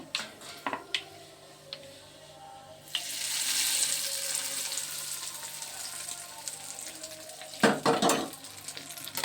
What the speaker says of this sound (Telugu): పోపు వేసేస్తున్నాను.